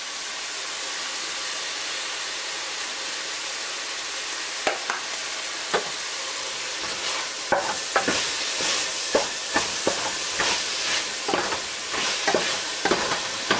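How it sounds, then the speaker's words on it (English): Onions seasoned with pepper and dried thyme sauté in a pan, giving a steady hiss that is joined about halfway through by a run of sharp stirring scrapes and clicks, with no talking. "Saute until the onions are semi-translucent, which they are now."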